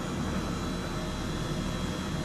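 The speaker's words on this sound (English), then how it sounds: "So I'll hover taxi out of this Airbus, make our way to the actual helipad." Simulated Airbus H135 helicopter hover-taxiing toward a helipad in Microsoft Flight Simulator over Sydney, a steady loud broadband turbine and rotor roar with no pauses.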